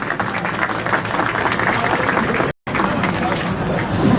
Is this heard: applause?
yes